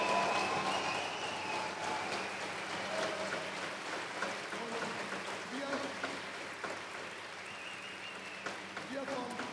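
Audience applause at the close of a conference talk at re:publica 25, a dense steady wash of many hands clapping that fills the room and holds evenly throughout without pause.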